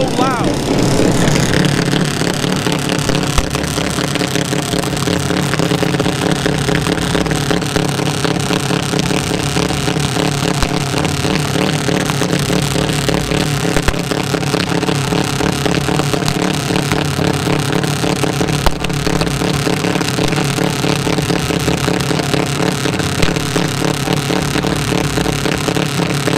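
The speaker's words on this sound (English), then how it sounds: "The audio is shitty because of the fact that these cars are so loud" Drag racing cars at Atco roar loudly and continuously, a dense, steady engine blare that fills the whole stretch, with a voice faint beneath it.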